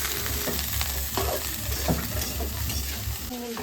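Stems, potato and radish sizzle steadily as they are lightly fried and stirred in a pan, with a dense continuous frying hiss and occasional scraping stir strokes up close.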